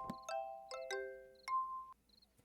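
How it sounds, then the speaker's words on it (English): Silver Starbell flower in the game Little Witch in the Woods gives off soft bell-like chimes, several mellow struck tones ringing out one after another and fading, quiet and clear against near silence. "This silver bell-shaped flower also produces a mellow sound like that of a bell."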